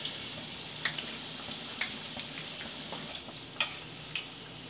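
Tofu egg rolls frying in about an inch of preheated oil over medium heat in a small pan, a steady close sizzle and bubbling with occasional sharp pops and crackles, no talk.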